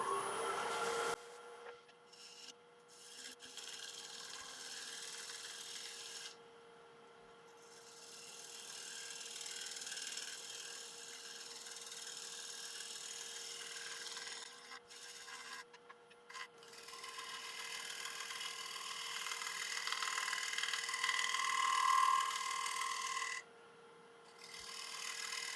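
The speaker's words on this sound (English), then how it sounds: "So just try a little 1-inch shear scraper first." A 1-inch shear scraper working punky, cracked hornbeam on a wood lathe gives a steady, close scraping hiss over the motor's hum, with several short pauses where the tool lifts off.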